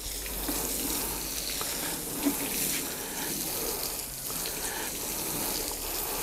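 Water pours and gushes steadily onto a freshly mixed potting soil blend, a continuous broadband wash like a running tap, with a small splash midway and no voices.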